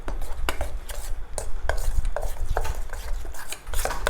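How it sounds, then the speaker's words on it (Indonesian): Flour is stirred into coconut milk in a bowl for Palembang maksuba kojo batter, giving repeated scraping and clinking strokes of a utensil against the bowl, close and steady with no talk. "Untuk tepung terigunya supaya tidak bergerindil, saya campurkan dengan santan kita teman-teman. Kemudian kita aduk."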